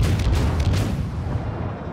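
A deep, rumbling naval gun salvo in World of Warships at low tiers, a heavy boom that rolls and slowly fades over about two seconds with no talking.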